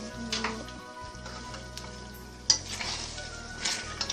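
Spaghetti pasta being stirred in a sizzling pan, a steady soft frying hiss with faint scraping and a few light clinks, fairly quiet and close.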